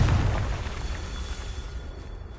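A Confringo fire blast spell from the Hogwarts Legacy video game erupts in a loud, low roaring burst at the start, then decays into a crackling, rumbling tail that fades out over two seconds.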